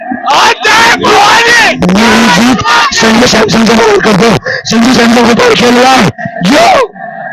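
Dense crowd in Kolhapur's Chhatrapati Shivaji Maharaj Chowk roaring and cheering India's T20 World Cup final win, loud and continuous with shouts and whoops, briefly dipping before surging again.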